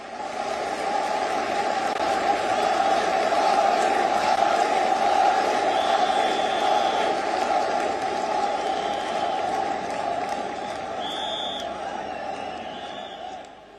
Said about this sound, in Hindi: बजाइए ताली और बुलाइए माननीय प्रधानमंत्री